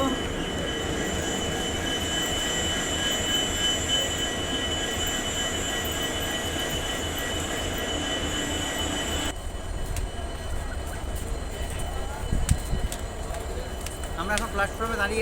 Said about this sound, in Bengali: হাওড়া মেদিনীপুর লোকাল ট্রেন এই প্ল্যাটফর্মে আসবে অ্যানাউন্স করছে